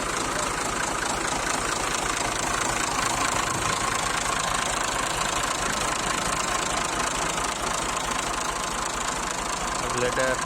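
A 2002 Massey Ferguson MF 240 tractor offered for sale idles close by with a steady, rough diesel clatter, continuous and loud throughout, with someone speaking over it.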